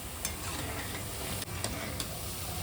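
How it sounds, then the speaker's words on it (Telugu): Moong dal fritters (pesara punukulu) frying in oil over medium flame, a steady close sizzle broken by a few soft scraping stirs of a spoon, with no voices. "ఈ విధంగా మనం కలుపుకుంటూ ఫ్రై చేసుకోవాలండి."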